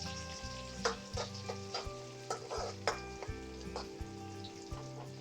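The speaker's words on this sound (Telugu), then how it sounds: "ఆయిల్ హీట్ అయిపోయినాయి, టక్కనే ఎగినాయి. ఆనియన్స్ వేసేసుకుందాం." Chopped onions frying in hot oil for a chicken fry, with a constant sizzle and a run of clattering knocks and scrapes from stirring, heard up close and fairly quiet.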